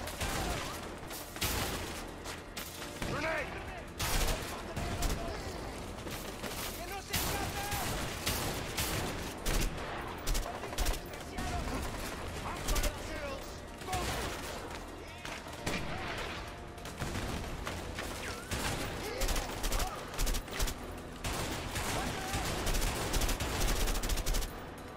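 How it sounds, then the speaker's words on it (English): Rapid bursts of heavy gunfire from a grenade launcher in the video game A Way Out, with dense, repeated shots running continuously and loudly throughout, and occasional voices underneath. "Grenade launcher."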